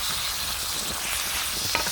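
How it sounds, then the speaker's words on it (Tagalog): Beef sautés with garlic, ginger and scallion in a hot pan, giving a steady, close sizzle with a single light clink near the end. "maggigisa na po ako ng beef at nilagyan ko po siya ng bawang"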